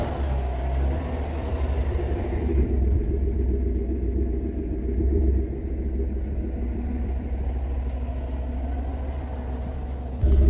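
A 2022 Chevy Suburban engine runs steadily while driving, a low continuous rumble with faint road noise, moderately quiet and unbroken, with no talking.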